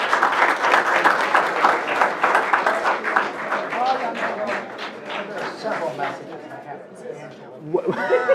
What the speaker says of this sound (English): one more round of applause for the Bulldogs